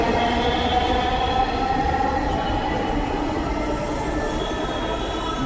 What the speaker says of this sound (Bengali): উত্তরামুখী মেট্রো রেলগুলো এইমাত্র ছেড়ে দিল